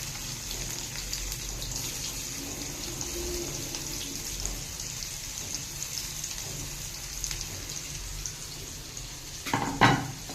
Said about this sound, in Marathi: आता जिरे तडकल्यानंतर आपण ह्याच्यामध्ये कांदा घालणार आहोत